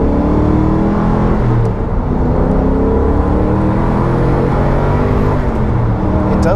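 A Noble M600 engine in its 600 horsepower setting revs and accelerates, a loud, close, rising drone of engine harmonics that holds strongly throughout with a brief dip in the middle.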